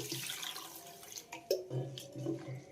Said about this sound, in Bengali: এবার ডালটাকে ধুয়ে নিচ্ছি